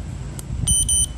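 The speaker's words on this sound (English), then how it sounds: "Pretty loud beep." A dog training collar's handheld remote gives two loud electronic beeps, close and clear, each lasting about a fifth of a second, one right after the other.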